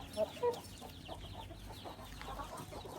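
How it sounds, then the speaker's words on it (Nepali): A local rooster clucks a couple of times near the start, close by, and then quieter fowl sounds and farmyard ambience carry on. "यहाँ छ यही हो मैले लाने भाले"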